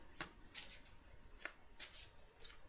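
Tarot cards are shuffled quietly during a love reading, with five or six crisp riffling bursts spaced about a second apart against a faint, hushed background.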